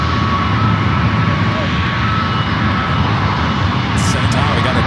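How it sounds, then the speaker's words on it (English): An Air France airliner on runway 19 left at San Francisco International Airport gives a steady, loud, broad jet-engine roar that holds evenly throughout. "I got that Air France utilizing runway 19 left."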